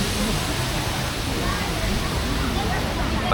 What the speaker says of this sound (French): Une petite cascade magnifique.